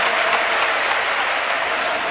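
A basketball crowd applauding at the 1989 ACB final game 5 between FC Barcelona and Real Madrid, dense steady clapping filling the arena as player Waiters heads off the court.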